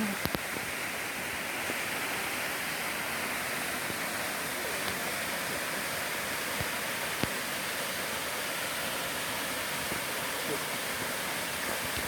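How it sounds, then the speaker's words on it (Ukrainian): Dosivets waterfall in Nadvirna, Ukraine, a loud, unbroken rushing roar of falling water heard close up, steady for twelve seconds with only a few faint clicks. "Ну, ось такий досівецький водоспад надвірні."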